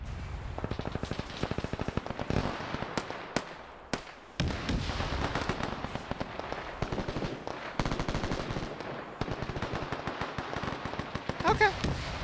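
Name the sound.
gunfire from defense crews in Arma 3 video game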